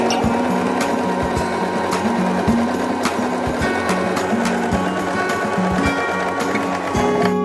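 A Janome 2049X sewing machine stitches steadily, its rapid needle mechanism chattering in an even, continuous rhythm close by, with no voices.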